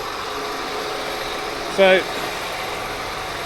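A John Deere 8 Series tractor engine drones at a steady idle throughout, with a brief spoken word over the even hum.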